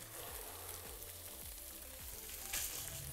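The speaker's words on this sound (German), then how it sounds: "Das Ganze auch nochmal 5 Minuten anbraten" Seitan and celery sizzle steadily in heat-resistant olive oil in a frying pan, a continuous close crackle with occasional scraping stirs and a brief louder hiss near the end, no voices.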